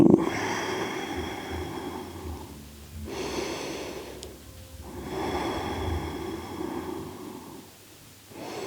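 Slow, steady breathing during a yoga pose, with long inhales and exhales repeating in a soft, close rhythm and no talking.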